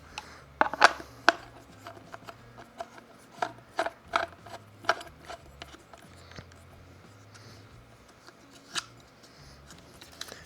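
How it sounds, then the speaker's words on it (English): A mounting base plate being screwed onto the back of an outdoor security camera's solar panel, heard as close, irregular clicks and ratcheting turns in short bursts with quiet pauses and no talk. "here we have a mounting base plate that comes with our solar panel, and so that just screws into the back."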